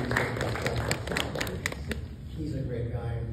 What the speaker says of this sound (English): Can we just give him a little clap?